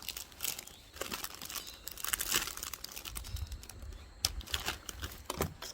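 Plastic wrap being peeled and torn off a potted chrysanthemum from a flower shop, giving a run of close, irregular crinkling and crackling bursts with sharp tearing snaps throughout, no talking.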